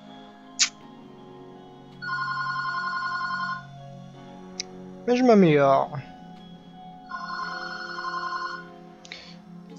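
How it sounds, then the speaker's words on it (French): A telephone rings in the background in two separate bursts of rapid electronic trilling. Someone talks in between, with short clicks and a brief sweeping sound from a game. "Désolé pour le téléphone en fond."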